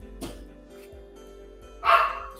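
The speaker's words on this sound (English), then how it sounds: "You can hear my puppy just freaking out because my friend come over." A puppy barks in short, excited bursts indoors: a few sharp yaps spaced apart, then a louder, higher outburst near the end, fairly close with some room noise between.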